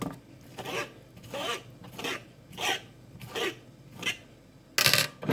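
Rhythmic rasping scrapes of a fork shredding boiled bamboo shoots for soup, about eight evenly spaced strokes close by with a sharper scrape at the end, no speech.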